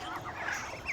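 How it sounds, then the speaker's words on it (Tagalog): Ducks on a farm in rural Mindanao give a brief, faint burst of chattering calls, heard from a short distance with no talking. "kumusta ang ating mga pato?"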